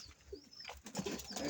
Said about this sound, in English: Let me see where my pigeons stay.